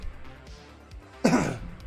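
A single harsh cough bursts out near the end after quiet background hum, close and loud against an otherwise still room.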